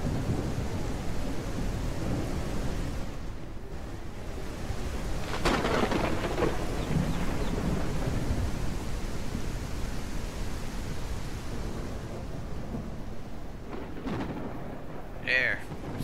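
Steady heavy rain hisses through a thunderstorm in the farming game Ranch Simulator, with low rumbling thunder rolling underneath and a sharper crack partway through; a voice talks faintly.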